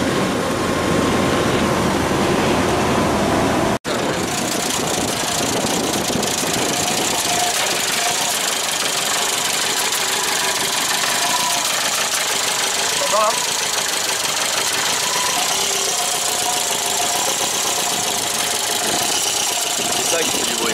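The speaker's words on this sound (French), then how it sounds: "et même le ralenti tourne pas bien" A Renault 4L engine idles roughly and steadily nearby, with an uneven knocking rumble running throughout.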